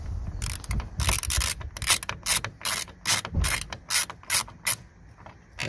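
Ratchet driver clicking steadily while undoing T30 screws on a VW Polo door mirror: a close series of crisp, rhythmic pawl clicks with some rubbing between strokes, no speech.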